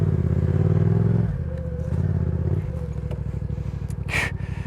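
A motorcycle rides through muddy grass, its engine droning steadily and then easing off, with rhythmic chugging and some clattering from the bike moving over the soft ground.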